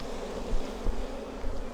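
Honey bees buzz around an open hive frame as a colony is worked, a steady close drone with a few louder swells as individual bees pass near.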